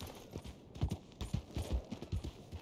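Horse hooves clip-clop in a steady, close rhythm in the Red Dead Redemption 2 video game, loud and fairly quick, with no talk over them.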